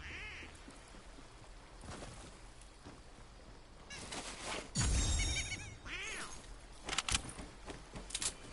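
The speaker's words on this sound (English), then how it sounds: "Where is this duck?" Video game duck quacking in short honking bursts over a busy game soundscape, with a louder thump in the middle and a few sharp calls near the end.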